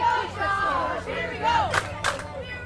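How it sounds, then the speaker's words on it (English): A baseball crowd cheering for the Midwest Plains team after a leadoff hit, loud shouting and yelling from many voices with sharp bursts of whistles and cheers rising near the end. "Crowd here for the Midwest team really getting into it."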